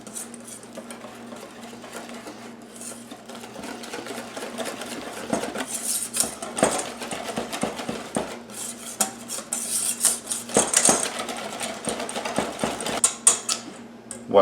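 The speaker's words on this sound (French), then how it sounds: "Et là, on ajoute le tout à la farine. On mélange à partir du centre vers l'extérieur." A whisk or spoon beats crêpe batter into flour in a bowl, tapping and scraping steadily against the sides. The rattling stirring grows busier and louder as it goes.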